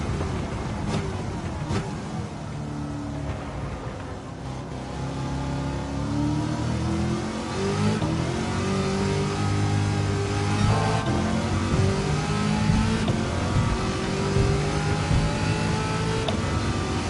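A Corvette C8 in Gran Turismo 7 roars at full throttle, its engine climbing through the revs with gear changes, rising and falling tones sustained loudly and close for the whole stretch.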